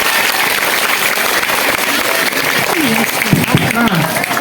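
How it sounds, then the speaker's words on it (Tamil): Audience of schoolchildren applauding, a dense crackle of clapping throughout with voices rising over it near the end. "அவருக்கு மிகப்பெரிய பரிசு உங்களுடைய கைத்தட்டல் தான்"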